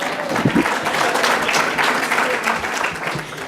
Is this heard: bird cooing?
no